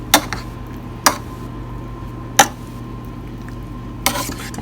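A fork stirs food coated with beaten egg in a dish, giving four sharp metallic clinks and scrapes spaced a second or so apart against a quiet background hum, close and clear.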